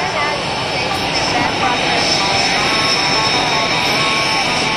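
An MS760 jet aircraft arriving at a naval air station airshow: a loud, steady jet roar with a high whine, sustained and close throughout.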